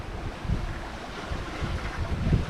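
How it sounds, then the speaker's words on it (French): Broadband surf and swell sloshing around a sailing boat off Bonaire, with steady wind near 17–18 knots roaring across the microphone, continuous and fairly loud with irregular surges. "on se fait bercer par le rythme indolent et imprévisible de la houle et des vagues"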